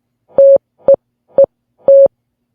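Four clean, loud electronic tones sound in a game, two long and two short, spaced evenly like Morse code, with silence between them and no talk.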